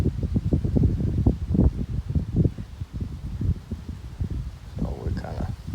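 Wind gusting across an open outdoor setting on a windy day while a rider works a young horse, a steady rumbling roar against the microphone that rises and falls throughout.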